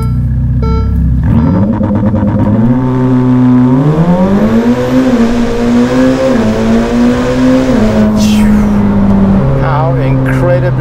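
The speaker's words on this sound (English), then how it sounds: "How incredibly quick this car gets to 100, which is what our speed limit is here." A Novitec Ferrari F8 N-Largo supercar accelerates hard and loud, its engine note climbing through several gear changes with brief dips between shifts, close and dominant throughout.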